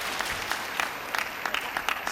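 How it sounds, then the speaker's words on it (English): Arena crowd applauding at a professional table tennis final, a dense steady clapping with scattered sharper claps, fairly distant and even throughout. "Stands up to applaud his player."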